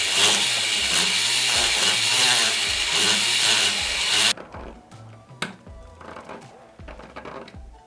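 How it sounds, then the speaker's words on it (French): A sterling silver 925 earring is being filed and sanded, first a loud continuous motorized grinding hum for about four seconds, then quieter intermittent scraping strokes with small taps. "je vais venir en fait le limer et l'enlever en fait, limer, émeriser"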